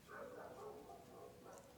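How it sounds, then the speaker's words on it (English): A neighbor's dogs bark in the distance, a faint, continuous burst of woofs and yips lasting under two seconds. "Oh my god, the neighbor's dogs."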